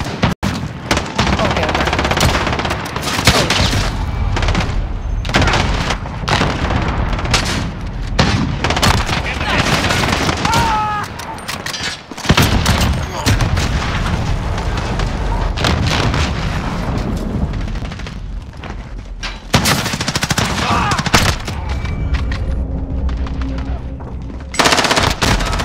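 Rapid bursts of gunfire and explosions in a sniper-only Modern Warfare match, loud and dense throughout with brief pauses, while a player talks over the action.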